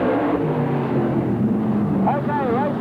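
Sprintcars race at Parramatta City Raceway in the early 1980s, their engines roaring steadily in the distance beneath an announcer's continuous commentary, with one car's note briefly warbling near the end.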